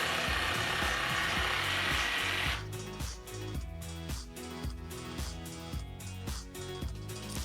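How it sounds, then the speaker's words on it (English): A power jigsaw cuts through wood in rapid, rhythmic rasping strokes, loud and close, after a brief stretch of steady noise at the start. "I'm using my jigsaw to carve out on that line and join it with the circle."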